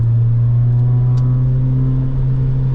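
A Honda Civic Type R engine holds high revs in a steady, loud, droning whine, heard from inside the car with no talk over it.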